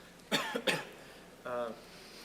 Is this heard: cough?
yes